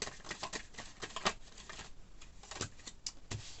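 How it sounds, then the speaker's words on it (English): Cards are shuffled up close, a steady stream of soft papery flicks and taps with occasional sharper snaps. "Oh, I'm sorry about my shuffling."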